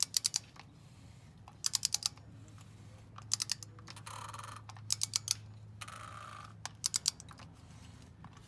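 A torque wrench on the oil filter housing of a 2011 Toyota Camry with a 2AR-FE engine gives crisp, close ratcheting clicks in quick bursts of three or four, repeated about six times over a low hum, set to click at 18 foot-pounds.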